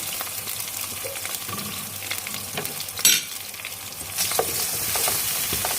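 Lemongrass, ground spice paste and turmeric powder sauté in oil, giving a steady close sizzle with occasional spatula scrapes and a sharp clatter partway through, no voices.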